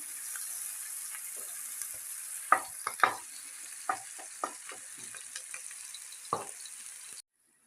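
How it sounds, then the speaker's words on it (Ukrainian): Chopped onion cooks in a pan for a fried topping, a steady, faint sizzling hiss broken by scattered soft scrapes and taps of a utensil, ending abruptly. "готуємо засмажку для наших полоничок. Варимо цибульку."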